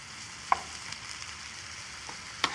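Vegetables fry in a covered wok with a faint, steady sizzle and crackle, marked by a couple of sharp clinks from the pan or lid.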